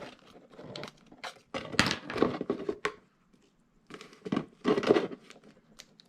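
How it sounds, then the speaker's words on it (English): Plastic tape peeling off a cheap plastic chopping mat piece, crackling and tearing in two bursts of several seconds with a short quiet gap between, close up. "Peeling my tape from the last piece."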